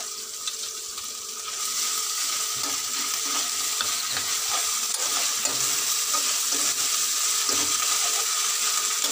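Ginger and cumin paste fries in oil, the hiss swelling louder after a quieter opening, then holding as a dense, steady sizzle crackling with small pops and spatters.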